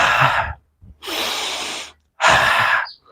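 Three long, forceful breaths in a guided meditation breathing exercise, each about a second long with short pauses between them, close and loud with a rushing, breathy texture.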